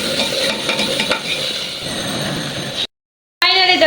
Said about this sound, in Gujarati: આ બધું મસ્ત મજાનું મિક્સ કરી દેવાનું છે.